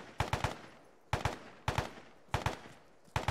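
Loud, sharp bursts in the military video game Arma come in quick clusters of three or four cracks, repeating several times with short gaps between them. They sound more like rapid gunfire than a single explosive charge, and no one talks.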